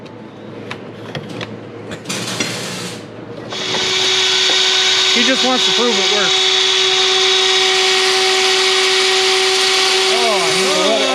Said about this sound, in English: And check out Manny's new high dollar drill press.